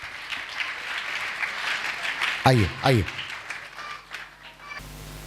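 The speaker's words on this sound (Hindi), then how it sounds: "ताली बजा कर" Applause from a church congregation welcoming a pastor's testimony in Kalahandi, Odisha, a broad clatter of clapping that runs steadily under a voice calling out, then cuts off abruptly near the end.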